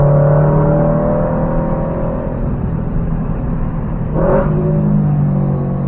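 A car engine droning loudly from inside the cabin on the winding Tail of the Dragon road, a steady engine hum with a brief rise in pitch near the end as the revs change.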